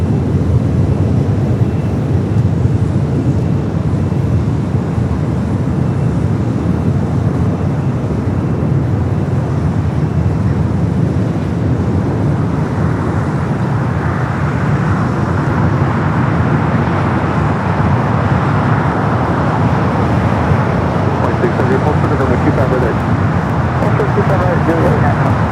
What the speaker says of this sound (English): United Flight 14 to 16 headed to Houston now, taking off here on the south side.